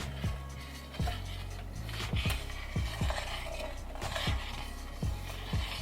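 Spoon stirs bourbon chocolate pecan pie filling in a pot over medium heat on the stove, giving steady rhythmic scrapes and knocks roughly every second against a low background hum.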